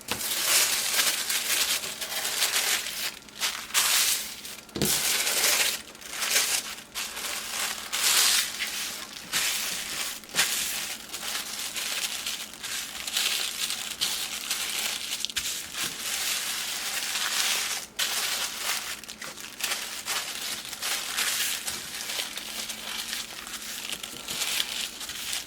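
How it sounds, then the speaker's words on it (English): Tissue paper is crumpled and folded by hand while packing an Etsy order, giving close, repeated crinkling and rustling bursts with small pauses, quiet and alone throughout. "I take half a sheet of tissue paper."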